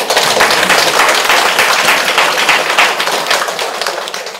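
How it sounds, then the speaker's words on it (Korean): A crowd at a lecture on the Diamond Sutra claps loudly and densely, and the applause tapers off slightly toward the end. "이제 박수도 안 쳐나."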